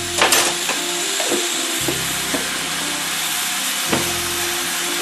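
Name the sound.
garlic and hot sauce sizzling in a pan for gumbo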